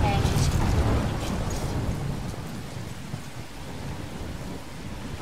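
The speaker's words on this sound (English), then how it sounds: "I'm trapped in a storm?" A thunderstorm in the video game Life is Strange: a heavy rumble of thunder opens over steady, dense rainfall, which continues as a constant hiss while the thunder fades.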